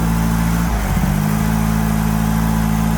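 A Volvo car engine that had sat unstarted for about half a year idles steadily and evenly after firing up, a continuous close low hum with a faint dip near one second.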